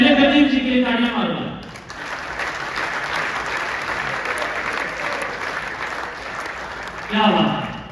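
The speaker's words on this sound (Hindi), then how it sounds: "तालियां मारो" A crowd at a wellness retreat program in Jaipur breaks into sustained applause between stretches of amplified talk, the clapping swelling loud and steady through the middle.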